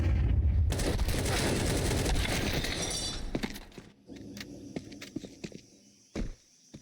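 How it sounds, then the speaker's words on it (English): A Counter-Strike 2 flashbang grenade goes off with a loud, sustained blast and high ringing wash that fades after a few seconds, followed by sparse footsteps and scattered shots. "Throw in a flashbang."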